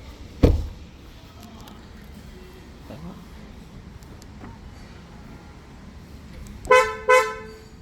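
A Hyundai Creta gives two short, bright horn chirps close by as it locks and unlocks, after a single sharp click near the start and a quiet stretch of ambience.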